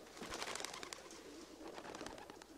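Racing pigeons coo softly at close range, with a run of throaty calls and some wing and body movement behind them, and no talk.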